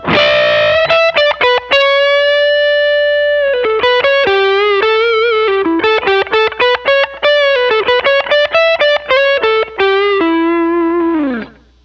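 An overdriven electric guitar plays a fast pentatonic lick with pitch bends and wavering held notes, loud and up front, fading on a final bent note.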